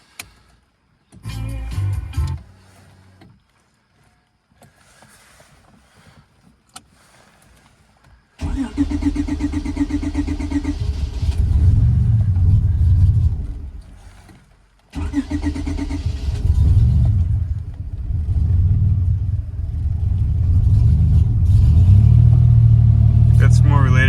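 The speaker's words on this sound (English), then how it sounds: "Let's start it up and see what happens." A supercharged J-swapped Honda Civic EK cranks and fires into a loud, steady idle that cuts out once, then restarts and settles back into a close, continuous idle, with talking heard around it.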